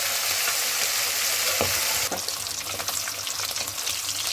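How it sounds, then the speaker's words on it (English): Fish fillets fry on a gas stove over high flame, a dense steady sizzle with brief clinks and stirring scrapes, close and moderately loud, no talking. "fry the fish both the sides slowly, one by one"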